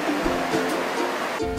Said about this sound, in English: Created an artificial waterfall here.